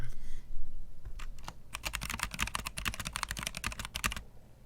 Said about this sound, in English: let's just do some sounds, some typing sounds